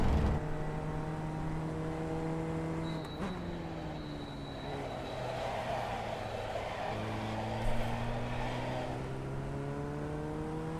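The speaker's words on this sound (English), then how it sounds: "This car sounds like the vintage Mini." A vintage Mini car engine in a racing simulator game drones steadily with harmonic hum, pitch shifting as it shifts gears and revs up again, loud and close.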